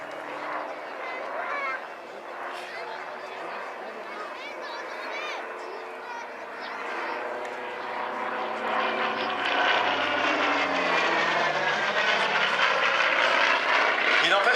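A Hawker Sea Fury propeller fighter drones past at an air show, its piston engine rising to a loud, rough roar as it nears, with someone talking over it throughout.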